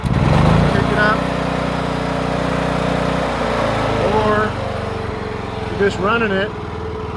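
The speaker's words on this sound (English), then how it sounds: "without a load on it, and it just idles like that to save fuel" A 1999 Kubota ARX 6500 generator runs steadily and close by, with no load on it, and the engine note drops as it settles back to idle while someone talks over it.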